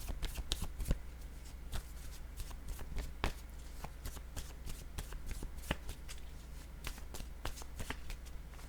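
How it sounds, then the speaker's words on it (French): A tarot card laid down on a table amid steady card handling, with quiet crisp clicks and flicks of card stock repeating throughout, close and faint. "je vais déposer une carte ici pour les deux personnes qui s'enlacent"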